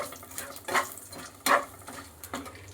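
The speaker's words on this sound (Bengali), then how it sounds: "একটুখানি নাড়াচাড়া করে নিচ্ছি" Two dried red chillies with black cumin frying in hot oil in a pan, stirred with soft scraping clinks at three spaced moments over a faint steady sizzle, no voices.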